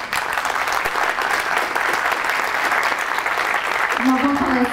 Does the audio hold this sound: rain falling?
no